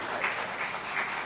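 Soft applause from a seated crowd greeting a presenter at a small business gathering, a brief, even wash of scattered hand claps heard at a distance and fairly quiet.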